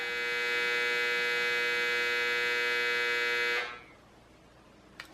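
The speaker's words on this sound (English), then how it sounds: "Sorry, that's my dryer." A clothes dryer runs with a loud, steady electric hum and strong buzzing tone for several seconds, then cuts off abruptly, leaving quiet room tone and a small click.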